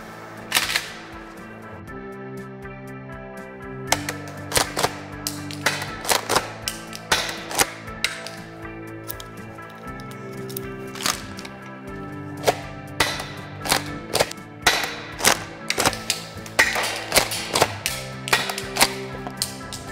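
An M870 shotgun replica made by PPS fires a long series of sharp, snappy pops, first spaced out and then quicker, over steady background music. The shots are close and crisp, and no one speaks.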